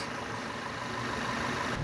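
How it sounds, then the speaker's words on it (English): 2009 Volkswagen Tiguan 2.0T engine idling at the exhaust, a steady, even hum with broadband hiss, moderately close and constant throughout. "Shot of the exhaust with the motor running."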